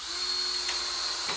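A power drill whines at a high steady pitch for about a second while driving screws into a wooden drag, close and loud, then spins down abruptly near the end.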